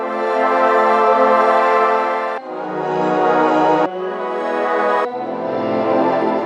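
A wavetable pad preset called Wavetable Pad Tune plays as four held chords on keys, each a rich, evolving sustained tone that changes pitch at each new chord, loud and alone without talk.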